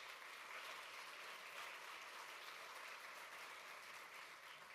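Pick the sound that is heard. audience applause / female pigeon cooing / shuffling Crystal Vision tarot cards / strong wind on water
audience applause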